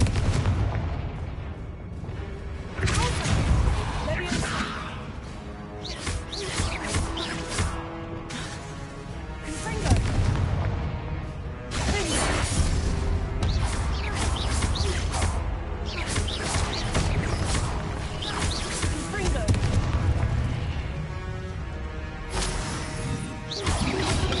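Confringo fire spell blasts in the video game Hogwarts Legacy, a run of loud booming explosions and crackling bursts over a dense, continuous game soundtrack lasting the whole stretch.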